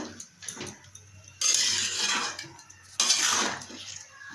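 A spoon stirs bottle gourd chutney in a pot, with soft scraping and clinking against the metal that swells into two louder, sustained bursts of stirring close by.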